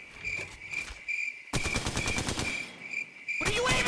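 Rapid automatic gunfire from the mobile battle royale game Apex Legends Mobile, dense bursts of evenly spaced shots that stop, restart and continue loud and close, with a steady high game tone running throughout.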